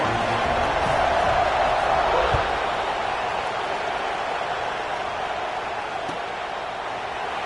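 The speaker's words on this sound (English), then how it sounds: "this crowd is buzzing after that last score" College football stadium crowd buzzing after a score at a Nebraska vs Clemson game, a steady, distant roar of many voices that holds level throughout.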